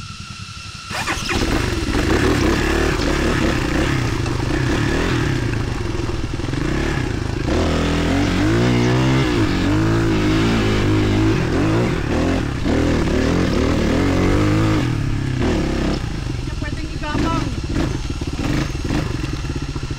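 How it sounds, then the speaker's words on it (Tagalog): Motorcycle and scooter engines rev loudly and continuously as the bikes climb uphill on the Great Pacific Trail between Ilagan, Divilacan and Palanan in Isabela. The engines kick in after a brief quiet start and labor steadily throughout. "Scooter nga umaakyat oh."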